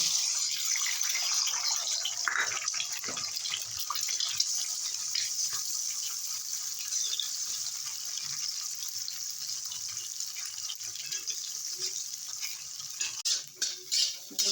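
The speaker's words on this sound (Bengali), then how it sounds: "ডিমটার ভালো করে ভুজিয়ে বানিয়ে নিলাম।" An egg is scrambled and fried in a pan for a Chinese-style dish, giving a continuous soft sizzle broken by scraping stirs, with louder clattering near the end.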